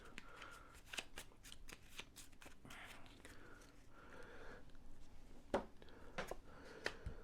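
Cards from a Red Rising board game deck shuffled at close range, repeated sharp riffling bursts and soft slides between them, quiet overall with a couple of louder snaps near the end.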